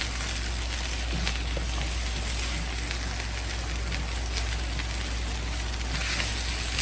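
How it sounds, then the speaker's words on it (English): Green onion sizzling in avocado oil in a hot pan, a steady, dense hiss of frying that holds evenly throughout with no talking. "The next thing we're gonna be adding is green onion."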